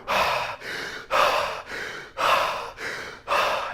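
Rapid rhythmic power breathing during a Wim Hof breathing exercise, about seven strong close breaths at a steady pace of roughly one every half second, each a loud rushing airflow, with no talk.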